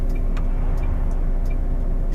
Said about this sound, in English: Too much traffic.